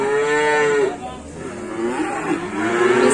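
Cattle at the Gondanglegi livestock market in Malang low with a loud, close, drawn-out moo that rises and falls, then another, over crowd murmur and distant engine noise.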